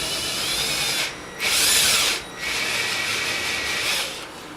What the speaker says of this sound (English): you still do need to be careful that you're centered when you're drilling through